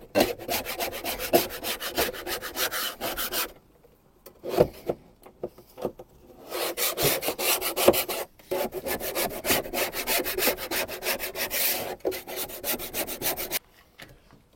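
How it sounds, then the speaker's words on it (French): Rhythmic rubbing strokes scrape along the edges of a Dometic ventilated roof vent on a camper, steady bursts with a few short pauses, close and fairly loud with no talk. "je gratte un petit peu les bords là"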